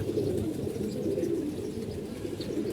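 Pigeon cooing at home among newly brought birds, a steady low murmur running continuously and fairly close, with no talk over it.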